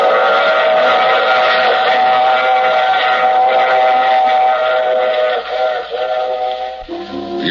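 Loud train sound effect from an old-time radio mystery drama, a sustained steam-whistle tone over rumbling rail noise that fills the scene, thinning out near the end, with no voices.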